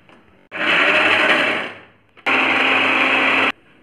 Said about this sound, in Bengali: যে পেঁয়াজটা মোটামুটি ঠান্ডা হয়ে গেছে আমি এটাকে একটু পেস্ট করে নেব